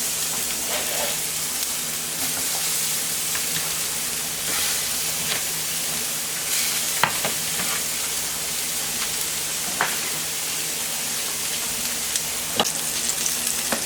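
Salmon fillets, soft and falling apart, fry in oil on a super hot griddle, giving a steady, close sizzle with scattered sharp crackles and pops.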